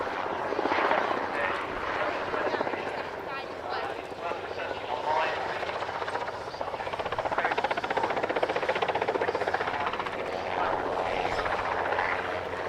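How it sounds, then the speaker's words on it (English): A Westland Wessex HU-5 utility helicopter, a license-built Sikorsky H-34 design, flies at the Cosford airshow, its broad rotor and engine roar steady and sustained throughout with crowd-like ambience underneath. "2 more aircraft for the flying, including this one, the Wessex HU-5"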